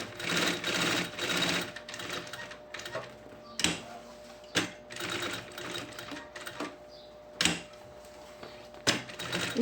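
A sewing machine stitches fabric for a lunch bag, running in several bursts of steady whirring separated by short pauses and sharp clicks, close and clear with no talking.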